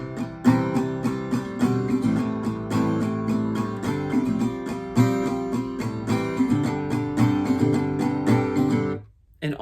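Acoustic guitar strumming a full chord line from the chorus of a song, steady rhythmic strums ringing out loud and close, with no voice, before stopping abruptly near the end.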